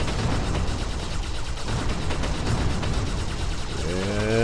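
Continuous dense rumble and crackle of enemy machines exploding in the Terra Tech vehicle-building game, a loud, unbroken barrage of blasts with a brief tonal whine at the end.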